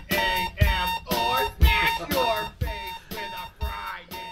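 An alarm-clock tone inside a song pulses in regular bursts about twice a second, gradually drifting offbeat, layered with a musical, buzzing melody.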